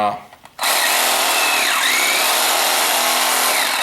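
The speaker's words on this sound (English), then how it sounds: "This is just a standard cordless sawzall that we've painted up look nasty." A standard cordless reciprocating saw, painted up as a haunted-attraction prop and fitted with an oversized polyurethane blade, starts after a brief quiet moment and then runs with a loud, steady, buzzing motor whine close by.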